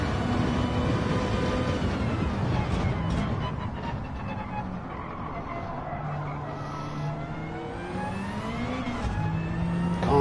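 Gr.3 race car engine revving out and holding high revs at Daytona in Gran Turismo 7, a loud continuous drone with shifting pitch sweeps, with faint tire skid noise beneath.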